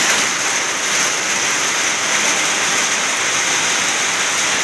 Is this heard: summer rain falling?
yes